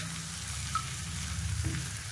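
Lemon rice stirred in a frying pan, a soft continuous sizzle with faint scraping of the spatula through the grains, quiet and close with no voices.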